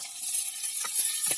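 Steady sizzling of onion and tomato frying in hot oil after mustard seeds, with a few soft stirring scrapes near the end.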